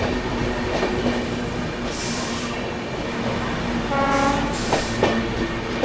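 Kanpur Shatabdi Express running at speed during an overtake, with a steady loud rolling rumble, clatter of wheels on rails and brief horn blasts partway through.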